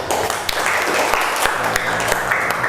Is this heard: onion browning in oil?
no